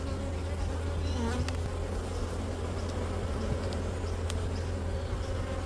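Honeybees hum steadily and close during a winter beehive inspection, a dense continuous drone with individual bees buzzing past the microphone.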